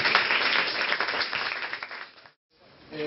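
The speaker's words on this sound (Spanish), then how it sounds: "Vamos a dar un aplauso a Dios por la vida de Padre" A church congregation applauds together, a dense burst of clapping that fades out into a brief silence before other sounds return.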